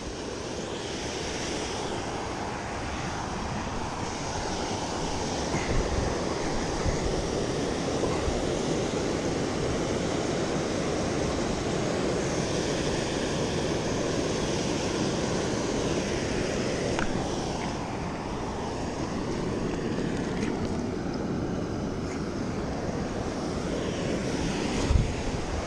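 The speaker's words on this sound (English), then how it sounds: "Obviously, I'm next to a waterfall" A waterfall at a fishing spot roars steadily and loudly for the whole stretch, a dense broadband rush of falling water close by with no pauses and no one talking.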